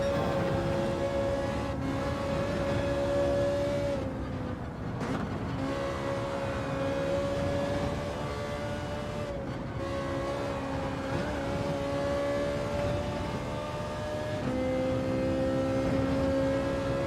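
A Ferrari race car engine drones steadily in Gran Turismo 7, a loud sustained tone that holds pitch with small dips and rises across several gear changes, close and continuous with no talk.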